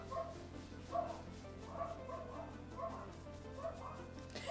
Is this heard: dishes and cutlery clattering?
no